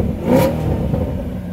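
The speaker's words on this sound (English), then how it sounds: "So just one more rev for the road." A Chevrolet Camaro ZL1 1LE engine gives a single brief rev, a close, loud rising growl that swells quickly and then settles into a rumbling idle.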